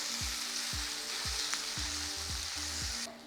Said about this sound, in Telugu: ఈ తోఫుని కొంచెం ఫ్రై చేసుకుందాం.